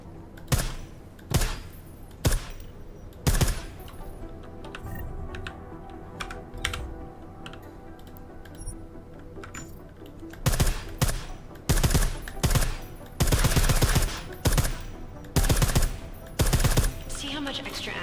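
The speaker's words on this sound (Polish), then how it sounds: "I like how silencers reduce sound, but the trade-off is less stopping power" Silenced weapons fire in the Deus Ex video game comes as sharp, close bursts of muffled shots, scattered at first and then rapid and clustered, with faint low background sound between them.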